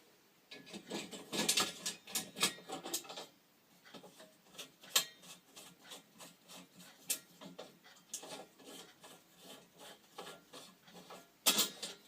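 Metal cage of a Tilley paraffin lamp being fitted by hand, a run of close, dry scraping and clinking knocks in irregular bursts, with quieter gaps between the handling sounds.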